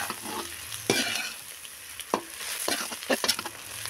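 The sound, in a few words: stirring chicken fried rice with masala in pan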